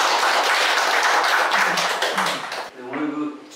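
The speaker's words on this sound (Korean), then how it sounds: "큰 박수 부탁드립니다." Audience applause at a national assembly seminar on data security, a dense burst of clapping that fills the room before fading at the end, followed by a voice beginning to speak.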